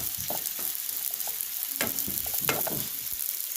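Garlic rice frying in a pan, a steady bright sizzle broken by scraping stirs and clinks of a utensil, close and alone.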